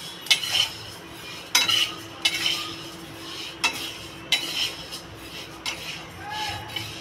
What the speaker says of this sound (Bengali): ডালটা আমি ভালো করে ভেজে নেব।